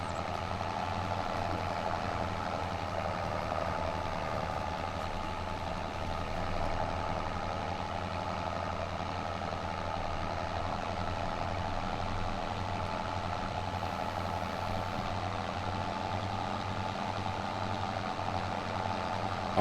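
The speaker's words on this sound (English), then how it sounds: "I do like the sound of this Ford tractor." A Ford tractor engine idles steadily in Farming Simulator 25, a constant low rumble with a mid-range drone held at even volume throughout, with no talk.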